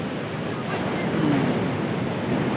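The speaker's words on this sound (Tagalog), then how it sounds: "Lakas ng alon guys." Strong ocean waves at Liwa Beach in Zambales, a loud continuous roar of surf with wind rushing across the microphone throughout.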